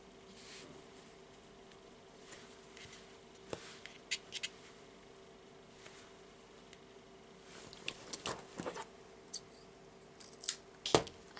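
Small scissors snip yarn for a Christmas friendship bracelet, with several quiet, crisp clicks and cuts scattered over a hushed background that grow more frequent toward the end.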